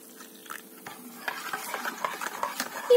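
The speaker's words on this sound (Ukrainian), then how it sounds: "Перемішуємо." A spoon stirs a medicine capsule into a glass of warm water, producing soft, continuous swirling and faint clinks of metal against glass that grow slightly louder over a few seconds, close up and with no talking.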